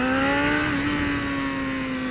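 A BMW S1000RR sport motorcycle accelerates hard, its loud, close engine holding a strong, steady high-pitched drone that climbs slightly and then levels off.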